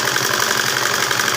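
A sewing machine restitches the seam of a full-elastic pant, its motor running in a rapid, even, close-up whir with a faint repeating needle rhythm for a second or so.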